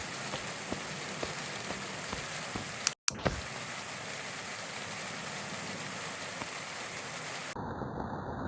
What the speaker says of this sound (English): Still raining, I gotta keep moving.